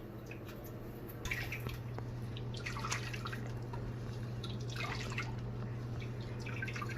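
Shredded cabbage squeezed by hand for cabbage swallow, with water dripping and splattering in irregular wet bursts over a steady low hum, close and moderately loud, no talking.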